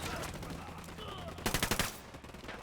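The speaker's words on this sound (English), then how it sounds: "Shots fired." Gunfire in the Ghost Recon Wildlands video game: a rapid burst of roughly half a dozen sharp, loud shots in quick succession, set against steady ambient game noise.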